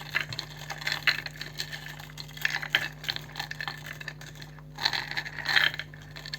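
Runes drawn and handled for a divination reading: light clicking and clattering of small pieces shuffled and knocked together in uneven bursts, close up, without speech.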